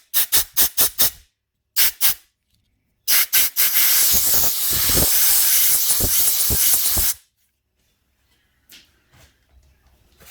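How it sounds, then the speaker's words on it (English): A compressed air line blows down a winch bearing in short sharp bursts, then one long loud continuous hiss of several seconds, stopping abruptly into near silence with faint handling sounds. "I'll give it a blow down with the airline"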